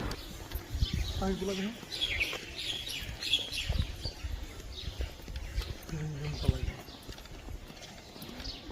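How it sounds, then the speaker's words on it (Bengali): Birds chirp around the old Baliati zamindar estate in Manikganj, giving repeated short high calls throughout, mixed with clopping hooves and steady outdoor background noise. "একটু সাইলেন্ট হয়ে পাখির কিচিরমিচির শব্দগুলো শুনুন"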